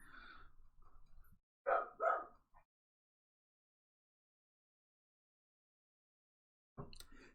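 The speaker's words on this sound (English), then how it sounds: "2 of them are playing. 1 of them's barking." A dog barks indoors in a house with several dogs, giving a couple of sharp close barks between quieter sounds and a long silence, then one more bark.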